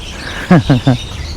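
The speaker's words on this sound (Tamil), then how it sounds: "அவ்வளோ பறவைகள் இருக்குங்க" Three short, loud bird chirps come close together and nearby in Jurong Lake Gardens, Singapore, on a faint outdoor background.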